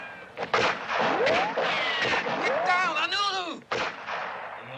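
Gunshots from a soldier at a fort, heard as several sharp cracks and booms amid a busy action scene with whistling, rising tones and shouting voices.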